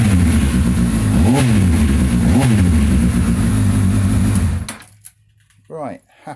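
A Honda CB1000 Mk1 with its stock exhaust baffle removed is blipped twice, giving loud, close revs that rise and fall over a constant idle before the sound cuts off. A fainter single rev follows near the end.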